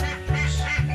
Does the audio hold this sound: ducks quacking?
yes